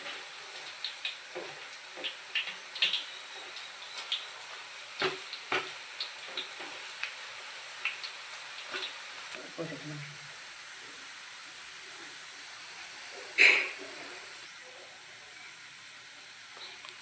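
Kara boondi batter frying in hot oil on a low flame, a steady soft sizzle with scattered small crackles and pops, one sharper burst near the end.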